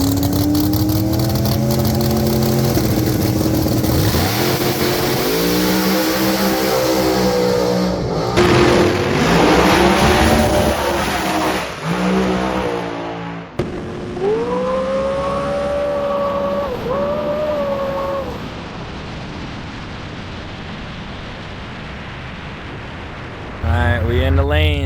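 No-prep drag race cars, including a ProCharger Hemi Nova, at Firebird Raceway for a Street Outlaws No Prep Kings grudge round: loud, close engines rev and surge in rising and falling sweeps, then idle lower before another burst near the end.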